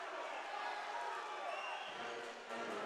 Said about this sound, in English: Crowd a little ruckus here